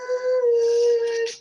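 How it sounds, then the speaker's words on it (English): A dog howls in one long, steady, tonal note that holds for over a second before breaking off, loud and close, with nothing else behind it. "I heard howling at the moon"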